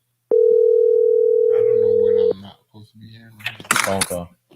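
A phone tone sounds as one steady, loud electronic note lasting about two seconds, then stops as voices begin talking close by.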